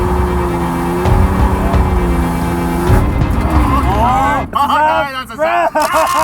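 A car drifting figure eights in second gear near a wall, engine revving loudly with rising whines and bursts of tire squeal toward the end, someone talking over it at the start.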